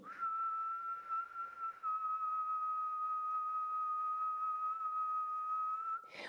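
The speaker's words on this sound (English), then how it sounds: "we will do a deep inhale through the nose and exhale whistling." One long, steady whistled exhale during a breathwork exercise, following a deep nasal inhale, holding a single pitch for several seconds, clear and close, with a slight step in tone partway through.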